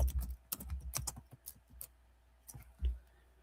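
Quiet keystrokes on a computer keyboard come in an irregular burst of quick clicks, pause briefly, then resume with a few more taps, close and soft.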